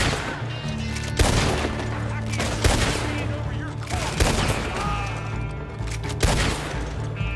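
Lancaster repeater rifle fired in a western game, landing headshots: several sharp, loud cracks spaced about a second apart over busy game sound and music, with a voice talking over it.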